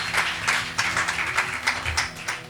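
An audience claps at a wedding testimony gathering, with steady, moderately faint applause running through the whole stretch and a little background talk.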